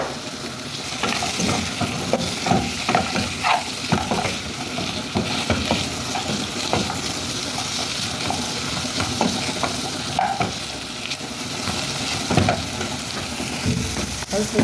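An onion fries in a small amount of oil in a pan while being stirred, giving a steady close hiss and sizzle with scattered scraping and clinking from the stirring throughout.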